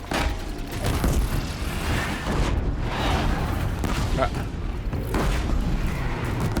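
Booming sticky bomb blasts in Horizon Zero Dawn, fired at a demonic Thunderjaw, roll out as dense continuous rumbling with repeated low thuds and no clear gaps.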